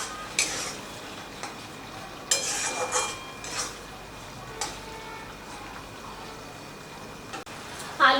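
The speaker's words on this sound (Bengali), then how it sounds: "এই আলুগুলোকে মশলার সাথে আমি 30 সেকেন্ডের মতো কষিয়ে নেব।" Fried potatoes stirred with spice masala in a pan for a Bengali vegetarian chhanar dalna, giving a soft steady sizzle with a few scraping spatula strokes and clinks of the pan.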